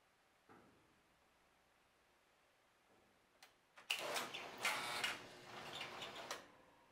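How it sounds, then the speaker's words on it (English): The motor of a 1960s cigarette vending machine starts after a couple of faint clicks and runs for about three seconds with a close, whirring mechanical rattle before stopping. "I can see that the vending motor at least works."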